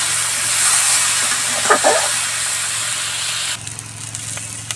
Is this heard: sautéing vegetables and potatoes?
yes